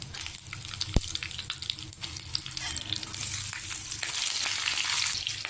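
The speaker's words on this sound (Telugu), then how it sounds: "ఆవాలు పోపు వేగింది ఇందులో మనం పచ్చిమిరపకాయలు ఇలా చీలికలు చేసుకుని వేసుకోవాలి" Oil sizzles and crackles steadily in a pan of mustard seed tempering, a sharp click early on, the frying hiss growing louder as slit green chilies are dropped in.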